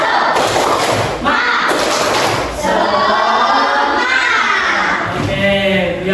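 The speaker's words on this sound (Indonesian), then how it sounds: "mari kita tepuk semangat" A classroom group claps a rhythmic spirit chant, loud and close, with repeated thumping claps and children's voices shouting along throughout.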